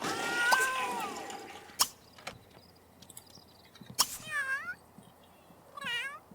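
A cat in The Sims 3 gives two clear, drawn-out meows that rise and fall. Scattered sharp game clicks and soft effects come first, and faint speech sits in the background.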